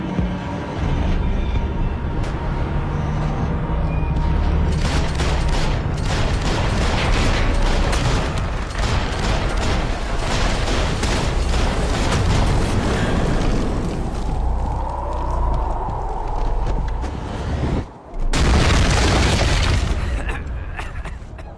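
Video game gunfire from Max Payne 3, a dense barrage of loud shots and booms that runs nearly nonstop, with a short break and then more bursts near the end.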